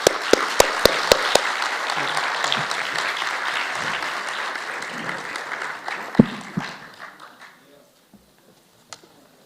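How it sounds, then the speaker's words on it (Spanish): Audience at a university communication studies event applauds. A few sharp single claps come first, then sustained dense clapping swells and trails off into scattered claps near the end. "Otro aplauso"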